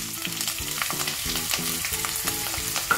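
Chopped onion frying in hot oil, a steady crackling sizzle with bubbling texture, close and continuous, no voices.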